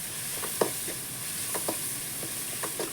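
Rock salt and masala sautéing in a pan for a home-style Tamil prawn thokku, with soft continuous sizzling broken by scattered light scrapes and clicks of stirring.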